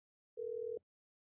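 A single steady telephone line tone sounds alone for about half a second, clean and moderately quiet, then cuts off abruptly at the start of a played phone call.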